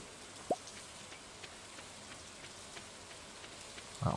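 Rain in the Stardew Valley farming game falls as a steady soft patter with scattered drip ticks, faint and even, plus a brief click early and a thump at the end.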